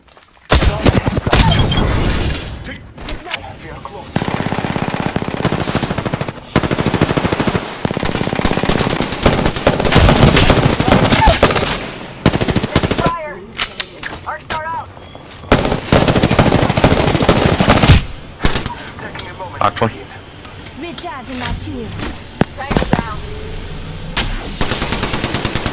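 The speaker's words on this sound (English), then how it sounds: "taking fire." Gunfire in the video game Apex Legends, loud sustained automatic bursts and rapid shots in long runs broken by brief pauses, with a little talking.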